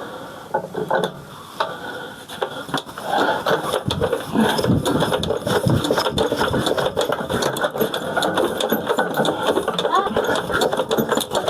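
A smoking motor running in a rural farm setting, a loud mechanical clatter with rapid ratcheting, gear-like rhythm that continues steadily, under someone talking.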